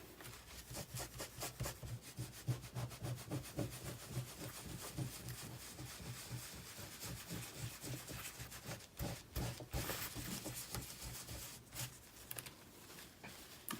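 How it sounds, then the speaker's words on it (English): A dry microfiber cloth wipes excess white paint off an embossed surface, giving close, steady rubbing and scuffing strokes in a continuous, slightly uneven rhythm with no voices. "dry microfiber cloth and just wipe any excess away"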